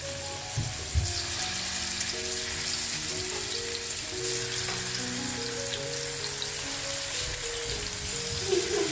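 Chicken pieces shallow frying in hot oil in a pan, a loud steady sizzle and crackle that holds throughout with occasional sharper pops, no talking over it.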